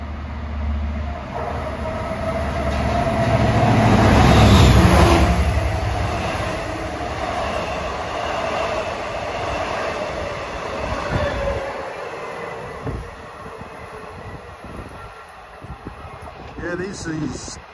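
An eastbound Long Island Rail Road train, Jamaica to Oyster Bay service, approaching Merillon Avenue station, a loud building rumble with rolling wheels that swells and then trails off, with people talking over it.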